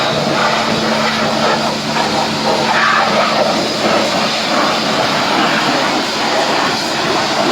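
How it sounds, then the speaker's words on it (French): A high-pressure washer starts up and runs to clean a motorbike, a loud, steady, broadband spray and motor roar filling the whole stretch without pause. "donc lavage haute pression démarre"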